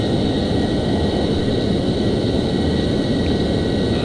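An F-14 jet roars in flight in Microsoft Flight Simulator X, a loud, steady, unbroken engine drone with no voices.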